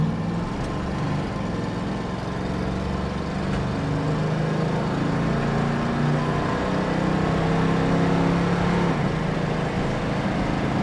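1973 Dodge Challenger engine droning steadily at speed from inside the moving car, a loud, continuous low hum with only slight changes in pitch as the automatic transmission shifts, with no talk.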